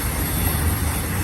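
A Z stack intermodal freight train passes at Blue Cut on Cajon Pass, a loud, continuous broadband roar of rolling stock and engine rumble, close and steady.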